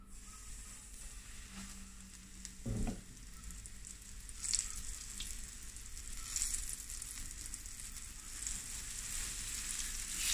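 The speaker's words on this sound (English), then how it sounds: "you don't want to fry it too long" Snoek roe seasoned with salt and white pepper fries in a pan, sending out a steady close sizzle and crackle with occasional stirring noises, fairly quiet and continuous, with no one talking.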